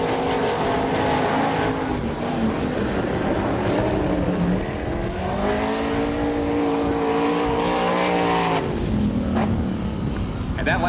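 A sprint car at an All Star Circuit of Champions dirt track race in Woodstock, Georgia, roars through a lap, its engine whining up and down in pitch as it passes, while an announcer talks over it.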